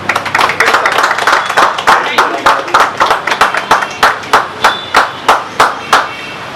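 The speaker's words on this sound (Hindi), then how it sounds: "चलिए विशेष ताली भाई।" Claps from a crowd at an event start as a dense, loud burst, then thin into slower, evenly spaced rhythmic claps heard close by.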